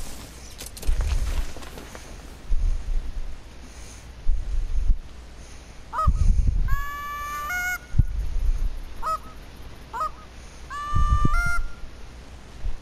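Wild geese honking outdoors during a goose hunt, repeated loud nasal honks in bursts with wind rumble on the microphone between calls.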